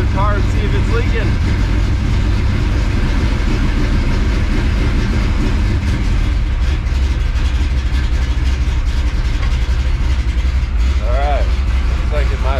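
A 1967 Ford Mustang with no choke running loudly and unevenly as it warms toward idle, a dense continuous engine roar close by with a voice speaking over it.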